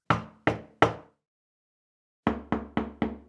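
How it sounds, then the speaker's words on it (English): Knocking sound effect: three sharp, evenly spaced knocks, a pause, then five quicker knocks, close and crisp against silence. "These sounds at first were subtle, a faint tapping here, a soft knock there."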